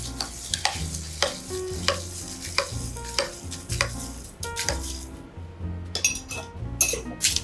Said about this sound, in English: And then we are going to add the ice. Just give a little bit stir it.